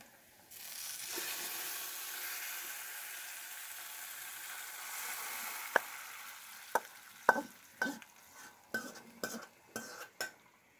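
Boiled chana dal goes into a pan of frying onions for a coconut dal. A soft, steady sizzle is followed by a run of sharp scraping clanks from stirring, all fairly quiet and close.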